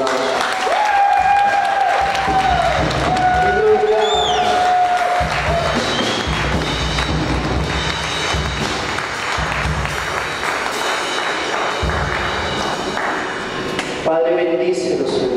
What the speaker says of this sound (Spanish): Vamos a dar al Señor un fuerte aplauso